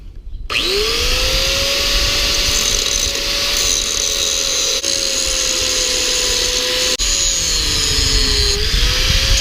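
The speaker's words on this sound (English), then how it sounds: "I'm just gonna grind it off and see what happens here" An angle grinder cuts through a badly worn welded part, a loud, steady high-pitched whine that runs almost unbroken for nine seconds, dipping slightly in pitch as the disc bites into the metal.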